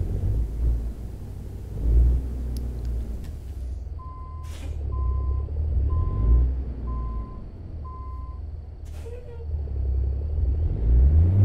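Reversing beeps from an International 9900i truck in the video game American Truck Simulator, five evenly spaced tones over a low engine rumble with an air brake hiss.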